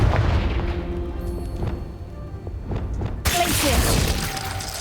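A Confringo blasting spell explodes in the game Hogwarts Legacy: a sharp shattering boom with crackling debris that rumbles out over a few seconds, followed by a second burst of noisy game effects.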